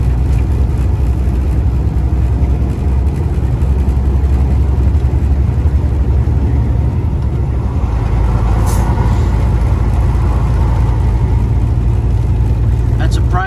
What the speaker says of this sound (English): That's a Pride truck.